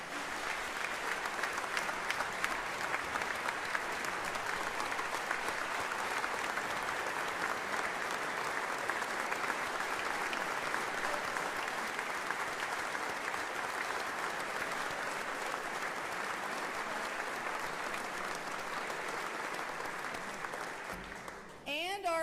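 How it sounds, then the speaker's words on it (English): Sustained applause fills the state chamber during the governor's State of the State address, a dense, even roar of many hands clapping for over twenty seconds before tapering off, with a voice faintly beneath it. "He deserves a round of applause for that."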